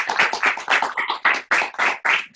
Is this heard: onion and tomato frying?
no